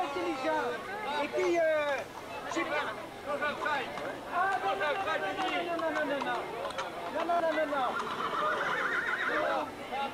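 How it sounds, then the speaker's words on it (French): Horses whinny and neigh repeatedly at an outdoor horse fair by a church bell tower, with hoof clip-clops and a busy crowd chattering around them at moderate distance. "Au pied du clocher, la foire aux chevaux."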